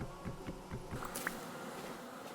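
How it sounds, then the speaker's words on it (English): Angry bees swarm around a beehive in the video game Vintage Story, a faint, continuous buzzing with soft footstep-like taps. "Get the honey and run from the angry bees."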